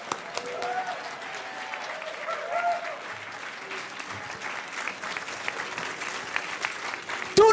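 A hall full of people at a hacker conference's closing ceremony claps in steady, dense applause, with a few voices calling out over it.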